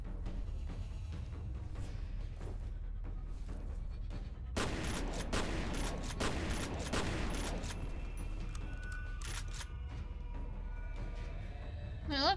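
Gunfire from the video game F.E.A.R., most likely a shotgun, going off in a dense cluster of sharp blasts in the middle of a quieter stretch of low rumble and scattered clatter.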